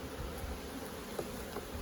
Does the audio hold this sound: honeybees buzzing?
yes